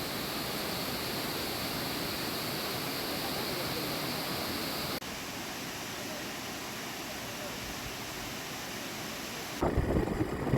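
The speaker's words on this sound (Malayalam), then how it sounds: "ഈ ന്യൂ വാട്ടർഫാൾസാണ് നമ്മൾ ഏറ്റവും അധികം കുറ്റാലത്ത് കാണേണ്ട ഒരു വാട്ടർഫാൾസ്" Broadband roar of water from the New Waterfalls at Courtallam, a steady loud rush that drops slightly in level midway, with a sharper, closer burst of noise near the end.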